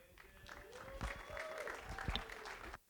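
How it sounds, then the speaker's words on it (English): A conference audience claps for a speaker: dense, steady applause from a room full of people, rising slightly then ending abruptly, with a voice briefly audible over the clapping. "Give a round of applause for Jake."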